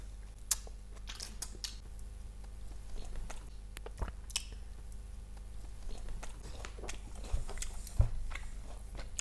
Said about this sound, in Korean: 하몽 한번 먹읍시다.